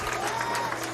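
Bowling crowd at a tournament cheering and clapping, a brief wash of applause and excited voices, moderately loud and continuous for about a second.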